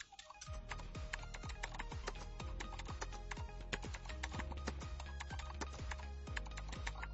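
Steady, rapid typing on a computer keyboard, dense even keystrokes running continuously and close up with no talking.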